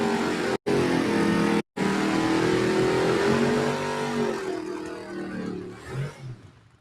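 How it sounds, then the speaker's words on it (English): A Buick GNX drag car roars past with a loud, rising engine note that cuts out twice in brief gaps, then fades and drops away toward the end as it recedes. "Here comes the GNX Buick."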